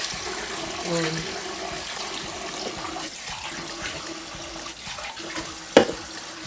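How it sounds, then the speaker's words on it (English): Rice being washed in water in a home kitchen, with gentle swishing and sloshing, trickles, and a sharp splash near the end, while a person talks over it. "I can wash the rice nicely"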